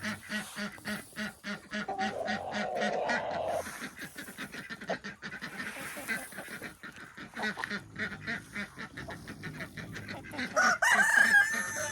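Backyard homestead chickens cluck and squawk close by, with a rooster crowing and other fowl calling, and a brief voice mixing in near the end.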